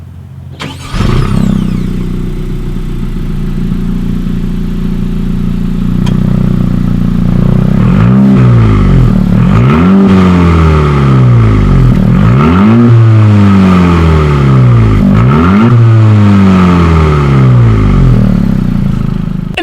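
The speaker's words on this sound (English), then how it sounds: "So as always, you guys, here is that exhaust clip." A 2017 Honda Civic Si engine starts with a sharp crank, idles with a deep burble through its center-mounted exhaust, then revs loudly in four or five repeated bursts, close and alone.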